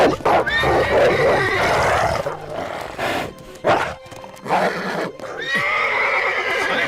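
A cartoon horse whinnies loudly several times, with sharp rising neighs in a forest chase scene, mixed with animated sound effects and mostly alone.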